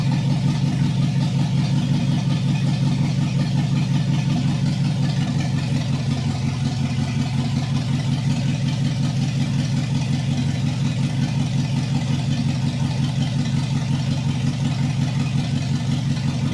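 A loud engine on a 1959 Ford F100 truck with open headers running steadily, with a deep, rough, throbbing exhaust rumble, continuous and close.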